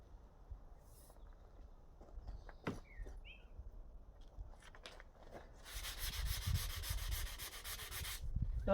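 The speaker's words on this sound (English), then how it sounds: "Just want quick rub like this with 240." A composite laminate worktop is hand sanded with 240 grit paper, quiet scattered rubbing at first, then a louder sustained scratchy stroke near the end, with no voices.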